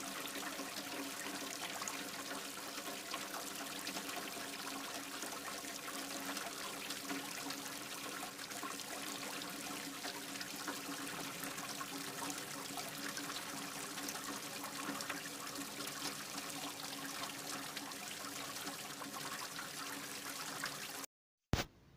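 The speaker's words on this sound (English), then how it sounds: "Wash the crab thoroughly in water 2 or 3 times." Raw crab being washed in water, a continuous soft trickle and slosh of running water at low level, fairly steady throughout, ending with a brief cut near the end.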